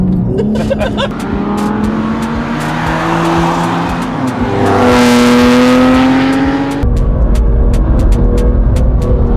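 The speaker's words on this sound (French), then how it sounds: "On met les gaz et c'est parti." A race car on the Le Vigeant circuit accelerates at full throttle, its loud, close engine climbing steadily in pitch before a sharp gear change, then pulling hard again.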